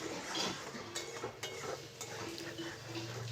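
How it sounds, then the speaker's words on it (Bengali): A spoon stirs a spice paste of cashew and poppy seed in a pan for a jackfruit curry, with quiet scrapes and light clinks against the metal and a faint sizzle underneath, close and soft. "এবার খুব ভালো করে মিশিয়ে নিচ্ছি"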